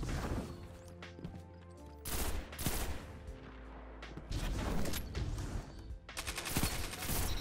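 Video game gunfire during a Trials match, with rapid bursts of shots and automatic fire crackling in clusters, some loud and close, with brief pauses between volleys and no talking.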